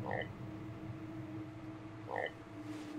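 A frog croaks in the VR horror game The Exorcist: Legion VR, with two short croaks about two seconds apart over a steady low background hum.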